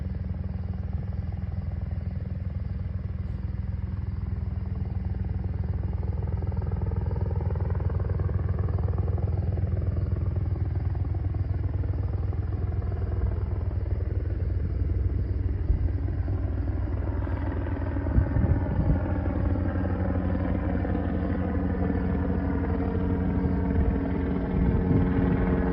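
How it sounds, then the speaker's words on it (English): A Chinook helicopter flies overhead at night, its heavy rotor blades producing a steady low rumbling throb that stays loud and continuous throughout, with engine drone swelling slightly toward the end. "That Chinook is back, dude. You hear those blades?"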